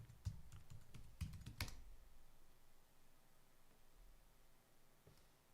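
Quiet keyboard typing while entering a password on a computer, a quick burst of several clicking keystrokes at the start, then near silence with faint room noise.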